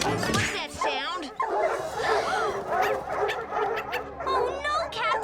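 Several dogs yip, whimper and bark in short, excited bursts, fairly close, mixed in with a voice talking.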